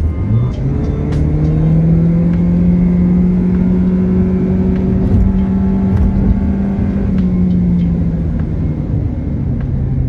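A 2024 Toyota Prius LE hybrid accelerating, a steady close engine drone with a rising tone and road rumble running throughout at strong, even loudness.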